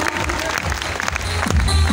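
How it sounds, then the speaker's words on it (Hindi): An audience at a stage event claps loudly and continuously for a short stretch, a thick wash of applause with voices mixed in beneath it. "आप सभी की जोरदार तालियां हो जाए"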